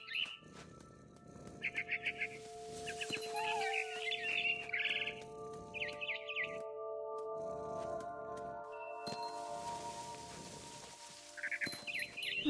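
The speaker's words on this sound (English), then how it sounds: "Then I heard chirping outside my window. It was a barn swallow going back to her nest." A barn swallow in a video game chirps in short bright bursts, spaced across the scene over soft ambient game sounds and faint tones, fairly quiet overall.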